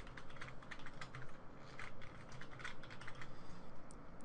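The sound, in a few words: typing a password on a computer keyboard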